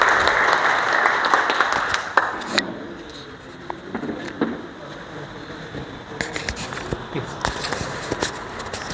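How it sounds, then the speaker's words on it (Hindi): Applause from an audience at a workplace Safety Day program, loud at first, then dying away into scattered claps, footsteps and shuffling, with sparse clapping returning near the end. "एक बार इनके लिए जोरदार तालियां चाहिए।"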